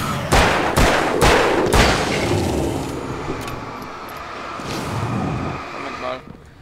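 Gunfire in the video game Alan Wake, set in a power plant: four or five sharp, loud shots in quick succession over the first two seconds, then a lingering rumbling wash of noise with a few fainter bursts.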